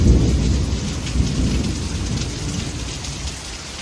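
Steady heavy rain pours down with low rolling thunder rumbling throughout, a dense continuous roar without pauses, during a thunderstorm with lightning.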